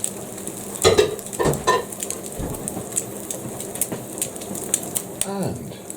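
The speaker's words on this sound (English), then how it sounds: "we now have the omelette starting to cook up quite nicely" A ham and sausage omelette sizzles in a frying pan with a steady crackling hiss and scattered pops. Brief handling knocks and a little voice sit near the start.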